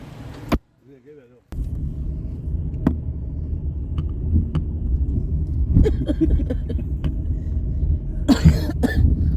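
Repeated coughing from a traveller heading out on a winter journey in Pakistan, with a low rumble of a car running steadily underneath and a few brief sharp bursts standing out near the end.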